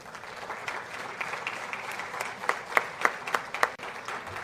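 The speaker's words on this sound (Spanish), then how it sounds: "a quien pido lo recibamos con fuertes aplausos" Audience applause welcoming a debate moderator at a regional congress in Arequipa, a steady wash of clapping with a few sharper, louder claps standing out near the end.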